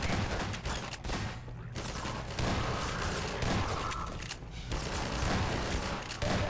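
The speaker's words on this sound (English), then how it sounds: "They're actually up and about shooting, but I don't want them to die, of course." Allied soldiers in a first-person shooter fire in sustained bursts, a dense, loud crackle of rapid gunshots with heavy booms mixed in, continuing almost without pause.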